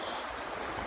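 A creek flows beneath a bridge, producing a steady, broad watery rush that fills the whole moment evenly without any voices or distinct splashes.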